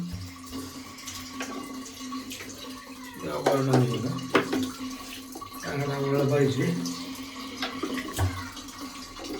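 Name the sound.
water running from tap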